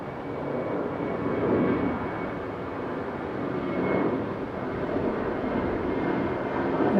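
Airplane engines at Okinawa airport form a steady, fairly distant rumble with broad noise that swells gently and recedes, continuous throughout with no voices.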